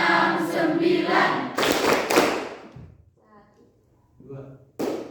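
A classroom of students claps in a counting rhythm game, a few sharp, loud bursts of claps breaking in among chanted voices, followed by a brief quiet pause before one more clap.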